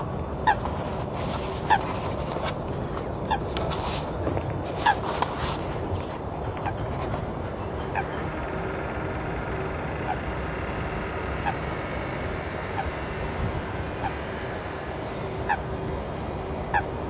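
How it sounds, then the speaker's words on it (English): Waterfowl honk in loud, scattered calls at Rushcliffe Country Park near a reed bed, several bursts in the first few seconds and then sparse calls spread over a steady outdoor hiss of wind and water, with no voices. "And there we have some ducks."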